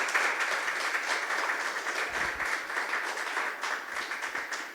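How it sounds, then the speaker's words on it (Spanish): A church congregation applauding during a Spanish-language sermon, steady dense clapping filling the room at an even level for several seconds. "Vamos a darle un fuerte aplauso al Señor, ¿verdad?"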